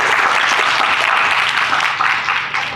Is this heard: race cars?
no